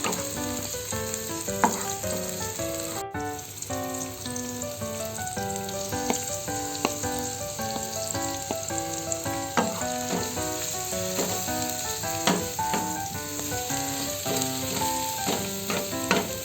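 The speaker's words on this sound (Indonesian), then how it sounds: "kita langsung aja tumis. Ada sedikit minyak goreng, bawang merah, dan juga nanti bawang putih." Shallots and garlic sautéing in a little cooking oil, a steady sizzle lasting throughout, partly masked by melodic background music and with no talking.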